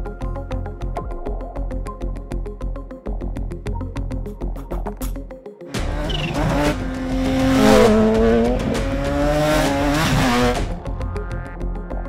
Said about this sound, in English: going to be my first chance to ride a proper supercharged H2 on the road. And it's going to be the carbon one.